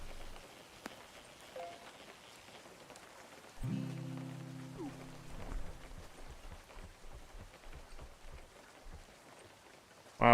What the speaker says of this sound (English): Looks like we're just going to be stuck in the rain.